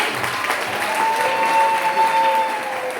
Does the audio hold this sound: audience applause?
yes